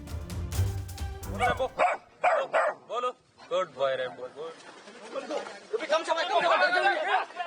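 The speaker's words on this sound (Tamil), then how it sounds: "நாய்கள் சாதுரியமாக பயிற்சி எடுக்கும் காட்சிகளை தற்போது பார்ப்போம்" Dogs barking during a rescue training session, several sharp barks standing out early, then mixed with people talking and handlers calling out praise throughout.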